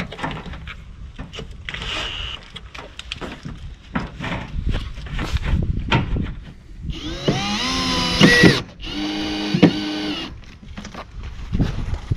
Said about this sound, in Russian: Дальше мы начинаем прикручивать нашу обрешетку самореза в овальное отверстие